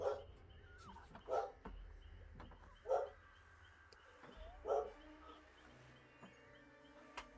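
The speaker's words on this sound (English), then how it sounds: "Why is the dog barking its tits off?" A dog barks in four separate, evenly spaced woofs, somewhat distant, over a quiet foggy outdoor background with no talk.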